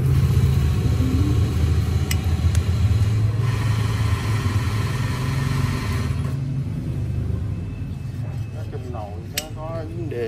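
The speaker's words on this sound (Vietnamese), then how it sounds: "Ông nổ máy rồi." A Honda SH Mode scooter with a stuck kickstand runs with a steady, low, close engine rumble and a faint rattle throughout, while people talk over it toward the end.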